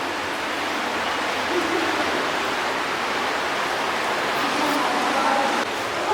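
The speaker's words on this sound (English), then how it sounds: "So what you're looking at is modern day Senne. This is just the river." The Senne river flows through an underground channel in Belgium, producing a steady, broad rushing roar that stays loud and even throughout, like a continuous waterfall echoing in an enclosed space.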